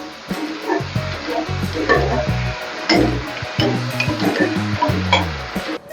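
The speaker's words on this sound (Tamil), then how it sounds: "கொஞ்சம் பச்சை வாசனை போகிற வரைக்கும் கொஞ்சம் வதக்கிக்குங்க." Onion and ginger sauté in a pan for an egg masala fry, with a loud, continuous close sizzle and frequent stirring scrapes, no talking.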